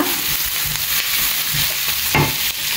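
Chopped onions frying in hot oil in a pan for brinjal bharta, with a steady close sizzle and scraping stirring strokes throughout and no talking.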